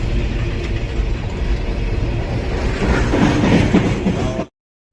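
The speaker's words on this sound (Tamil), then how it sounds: "ரயில் போயிடுச்சு ஓடியே போயிடுச்சு பாருங்கள்" A very long train rolls past on the tracks, a loud continuous rumble with clattering wheels that holds steady and then cuts off abruptly.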